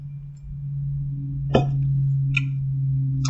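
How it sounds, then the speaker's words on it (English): Hiccups from a person eating spicy Japanese Mania Cheetos, two or three brief, sharp catches over a steady low background hum, close and clear. "There's the hiccups."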